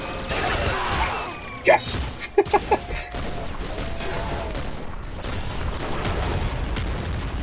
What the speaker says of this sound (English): We will have some fun with an ultra shotgun.